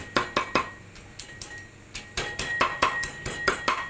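Knife chopping and mincing grilled bird meat for Thai laab on a cutting board, a series of sharp, close, uneven thwacks in quick bursts with short pauses.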